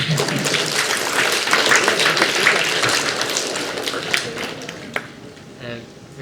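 An audience at a medical students' meet claps in a dense, sustained round of applause, loud and close at first, then thinning and fading over the last second or so.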